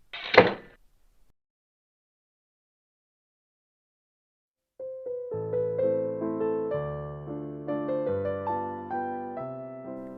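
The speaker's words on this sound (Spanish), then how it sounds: "el joven rubio se giró y salió del cuarto volviendo a azotar la puerta tras de sí" A door slams shut indoors with a single sharp, loud bang, followed by a few seconds of silence before music begins.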